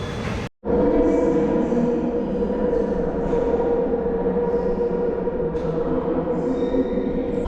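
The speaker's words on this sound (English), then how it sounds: "using the London Underground by myself" A London Underground train rides toward Gloucester Road, a loud, steady interior rumble with a hum and faint squeals and rattles throughout, after a brief dropout near the start.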